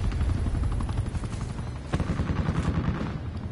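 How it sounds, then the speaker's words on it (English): An enemy attack helicopter in a military shooter video game thunders overhead with a low rotor rumble, mixed with bursts of rapid gunfire and a sharp crack near the middle, loud and close. "Enemy attack chopper above."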